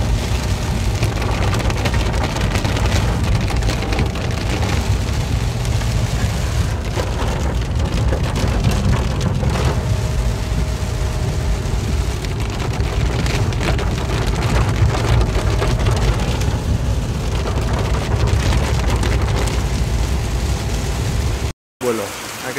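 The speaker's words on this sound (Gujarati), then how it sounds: "આ બાજુ તડકો ને આ બાજુ ફૂલ વરસાદ ચાલુ જ છે" Heavy rain pours down in sunshine, a loud, dense, unbroken roar of drops drumming on surfaces close by. Faint rumbles may be thunder, and the rain runs nearly the whole time before a sudden brief cut.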